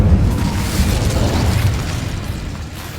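Incendio fire spell blast in Hogwarts Legacy, a loud rumbling burst of fiery whoosh and boom that slowly tapers off over a few seconds, with no voice over it.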